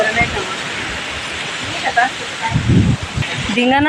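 Steady wind and rain lash outdoors, where sacks of onions are being stored. The roar is dense, loud and close, with brief voices rising over it.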